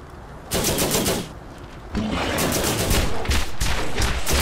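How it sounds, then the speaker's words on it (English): Loud close gunfire in the Borderlands video game, long dense bursts of rapid automatic shots with a brief lull before the shooting resumes and continues. "I must shoot."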